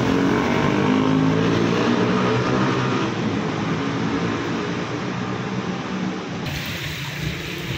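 Several buses drive along a toll road at night, a steady, loud rumble of engines and tyres that holds evenly throughout, easing slightly in the last second.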